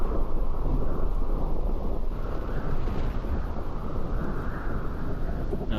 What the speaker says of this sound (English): No, it's just a dust storm.